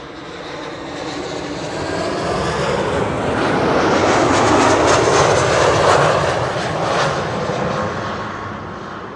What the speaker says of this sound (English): KLM flight 1136 is this one, arriving from Dublin.